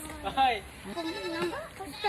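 Goats bleat in short wavering cries at a small goat farm in Tayabas, Quezon, several overlapping calls close by, with people's voices mixed in underneath.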